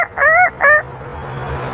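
An African grey parrot imitates a rooster's crow in two short, harmonic bursts, loud and close, with a faint low hum beneath.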